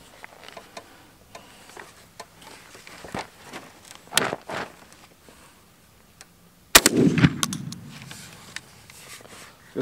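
A single shotgun blast fired at a 20-yard target during a pattern test, loud and close, with a sharp crack that decays into an outdoor echo, preceded by faint handling clicks and a brief knock.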